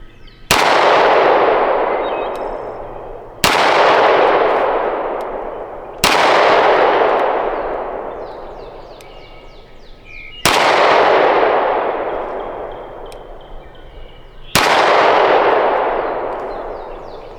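Five loud, sharp shots from a Springfield SA-35 pistol ring out one at a time, spaced a few seconds apart. Each crack leaves a long, fading echo, as at an outdoor range.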